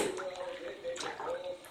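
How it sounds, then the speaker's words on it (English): A mixing tool stirs PVA into cold clean water in a bucket for cornice and coving work, giving soft sloshing, swirling and gurgling close by at low level. "I'm mixing some PVA in there."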